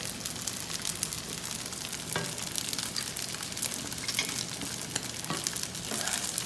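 Thick beef kare-kare sauce thickened with ground rice bubbles steadily in a pan, a continuous close, dense sizzling hiss with small pops, no voices.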